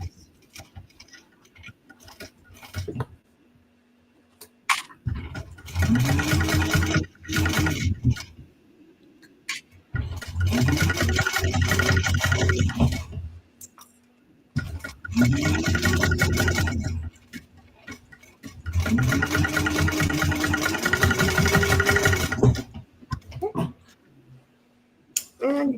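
A sewing machine stitches a bag seam in four bursts of several seconds each, its fast mechanical whir rising and settling, with quiet pauses and a low tone between runs.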